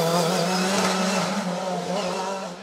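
An Osella PA30T race car at a hill climb screams past with a loud, high revving engine note, close and steady before fading slightly.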